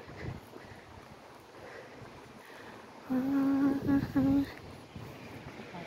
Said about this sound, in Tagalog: Medyo mahangin ngayon.